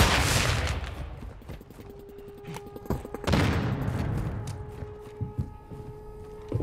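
Automatic gunfire in Call of Duty Modern Warfare II, loud rapid bursts of shots with sharp cracks and booms that ease off and then swell again, ringing tones trailing under the barrage.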